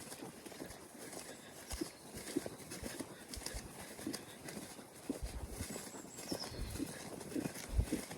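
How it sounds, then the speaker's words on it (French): A horse gallops outdoors through tall grass, its hooves thudding in a quick repeated rhythm under wind and rustling, heard close as if from the rider, with occasional heavier beats. "Allez, Quantum galope"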